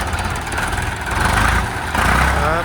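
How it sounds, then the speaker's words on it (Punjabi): A Mahindra Arjun 605 tractor's diesel engine starts and settles into a steady idle, loud and close, with a rough low rumble that swells slightly partway through. "ਤੁਹਾਨੂੰ ਟਰੈਕਟਰ ਸਟਾਰਟ ਕਰਕੇ ਦਿਖਾ ਦਿੰਦੇ ਆ ਜੀ"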